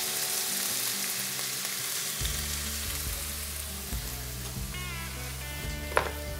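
Chicken browns in a pan with a strong, steady sizzle and hiss, joined by a low rumbling hum and a sharp clink near the end, close and continuous.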